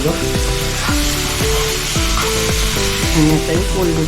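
Spices sauté for prawn biryani in a steady loud sizzle that fills the whole stretch, with rhythmic plucked background music running underneath.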